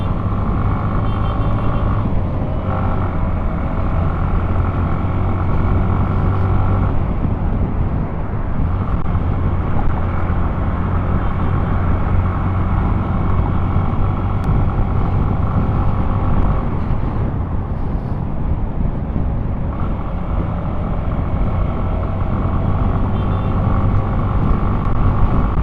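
A Hero Glamour X 125 commuter motorcycle with a 125 cc engine rides along a road, its steady loud engine drone and wind rumble continuous throughout, with slight shifts in pitch.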